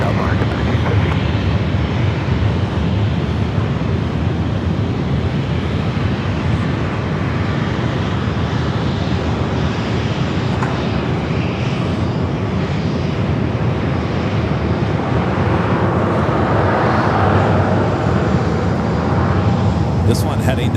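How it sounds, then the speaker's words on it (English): An American Airlines Boeing 737-800 takes off at San Diego airport, its loud, steady jet roar filling the whole stretch and swelling slightly near the end, with radio voices talking over it. "Have another American flight now lining up to 737-800."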